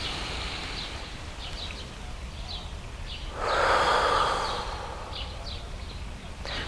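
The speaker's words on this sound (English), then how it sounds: "push it out as much as you can as you take a breath in" A deep diaphragmatic breath drawn in, expanding the abdomen, swells as a soft airy rush for about a second mid-clip against a quiet background with faint high chirps.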